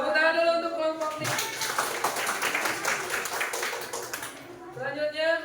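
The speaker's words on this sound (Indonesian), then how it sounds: "Tepuk tangan dulu untuk kelompok ini." A classroom of students claps for a student group during a lesson on electrical energy, a short burst of about three and a half seconds with talk just before and after.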